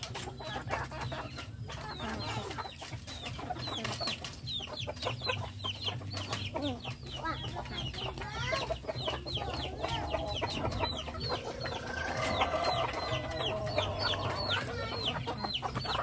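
Native Bisaya chickens cluck and squawk continuously at close range, with a dense, busy layering of calls from several birds throughout and no talk.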